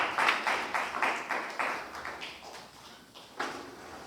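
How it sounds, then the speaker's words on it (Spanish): A church congregation claps their hands together as an offering of praise, a series of bursts of clapping that swell and fade, moderately loud and filling the room. "damos una ofrenda de palmas al Señor con todo el corazón"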